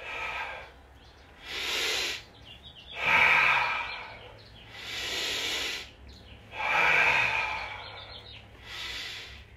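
Deep breathing during a qigong exercise, slow alternating inhales and exhales in six long, rhythmic breaths, close and clear, with no talk.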